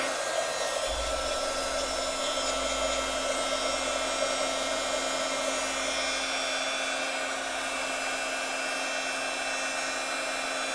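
A hair dryer blows steadily on mixed media layers of a journal cover, a loud continuous whirring drone with a fixed whine that holds unchanged throughout, no talking.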